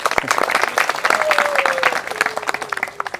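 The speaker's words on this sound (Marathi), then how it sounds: "जोरदार टाळ्या" An audience at a Marathi-language stock market and mutual fund seminar breaks into loud, steady applause. Dense clapping fills the whole stretch with some crowd noise, and a faint voice carries underneath.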